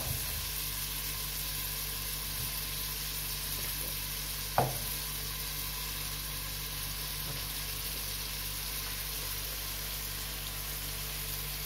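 Masala for chole matar frying in a pan, a faint, even hiss with a low hum and one sharp clink midway, no voices.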